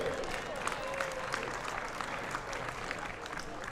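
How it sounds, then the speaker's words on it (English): Sustained applause from a crowd honours the Rest of the World lawn bowls team at an exhibition match against Australia in Brisbane, a dense, even clatter of clapping that holds for the full length. "Keep the round of applause going for the rest of the world"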